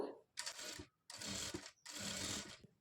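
A sewing machine stitches piping along a blouse neckline in three close, even bursts of rapid mechanical whirring, separated by short pauses.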